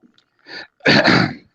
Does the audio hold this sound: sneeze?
yes